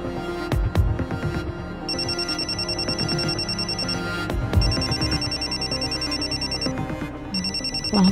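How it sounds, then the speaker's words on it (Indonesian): Telephone rings repeatedly in a drama scene, a loud electronic ringtone pulsing in regular bursts over background music, continuing through the clip with no talk. "saya angkat telepon dulu ya"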